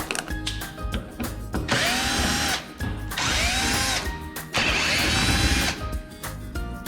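A power drill whirs in three loud bursts while backing screws out of a Whirlpool refrigerator door hinge, with brief pauses and clicks between runs.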